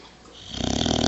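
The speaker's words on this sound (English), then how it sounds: "Why are you snoring?" A female dog snores after a day of play, rising into a loud, close, rhythmic rasping that grows stronger over about a second.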